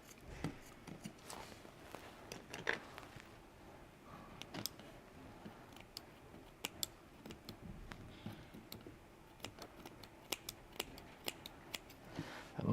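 Dull scissors snipping material while building a fantasy gaming board, a run of sharp irregular clicks and cuts, close and quiet against a soft room background, no speech.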